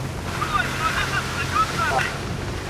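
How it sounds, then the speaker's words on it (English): Rough sea with 2 to 3 metre swells churning around a rolling fishing trawler, steady broadband wash of waves and wind noise buffeting the microphone, with voices talking faintly underneath. "The sea swells are reaching 2 to 3 metres."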